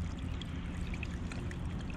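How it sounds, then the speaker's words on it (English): Faint, steady trickle and gurgle of running water in a small Pennsylvania creek, heard close and alone with a soft low rumble underneath. "This one I can actually hear the running water"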